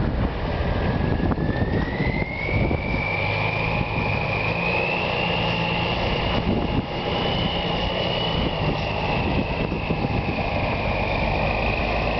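A deuce and a half military truck engine pulling in first gear over a small hill, a loud steady drone whose pitch slowly rises and levels, heard close and continuous.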